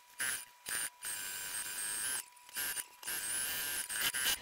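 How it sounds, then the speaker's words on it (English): A sewing machine stitches around the perimeter of a fabric clutch wallet with a 1/4 inch seam allowance, running in steady whirring bursts broken by brief stops, close and fairly loud. "I'm gonna sew completely around the perimeter"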